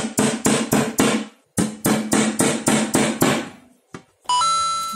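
Drainage holes are punched into a recycled container used as a pot for an avocado plant: two runs of sharp, evenly spaced loud strikes, about a dozen in all, close up, then a brief electronic beeping tone.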